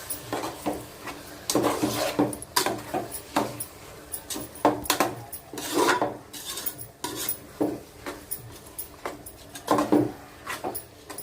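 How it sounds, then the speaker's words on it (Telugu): Rice being stirred into a tomato mixture in a pan, a spoon scraping and clinking against the metal in repeated irregular strokes, close and fairly quiet with no talk. "ఇప్పుడు రైస్ కూడా వేసేస్తున్నాను. రైస్ వేసుకున్నాక బాగా కలుపుకోవాలి."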